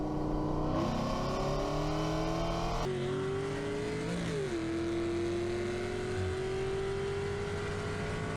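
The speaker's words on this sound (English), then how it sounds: "we're going to get a startup of the SS right now," A cammed Chevrolet SS V8 engine running loud and close, a rough idle with blips of revving whose pitch rises and settles across the clip, with no talk over it.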